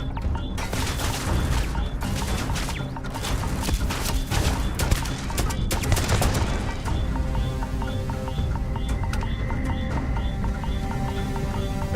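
Several gun turrets firing in the video game Starfield, a dense run of sharp bursts and booms that thins into scattered mechanical clatter.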